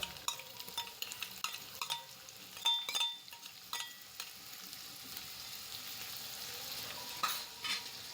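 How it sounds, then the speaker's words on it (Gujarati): Cumin seeds crackling in hot oil, then finely chopped onion frying in the pan, a quiet steady sizzle with scattered stirring clinks and scrapes throughout. "હવે જીરું આપણું તતળવા આવ્યું છે. હવે તેની અંદર આપણે આ 1 નંગ કાંદો છે તે મેં ઝીણો સમારેલો છે તે અંદર એડ કરી દઈશ."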